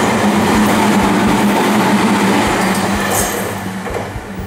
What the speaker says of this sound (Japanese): ちょうどここにねあの橋がかかってて電車が渡る